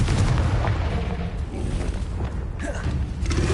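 A Confringo explosive spell in the Hogwarts Legacy video game lands in a thick, continuous wash of booming blasts and rumbling, loud and dense for the whole stretch.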